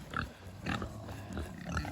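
Pigs grunt and snuffle in short, irregular bursts close by in a farm pen during cold-weather preparations, several low grunts overlapping with rustling and no speech.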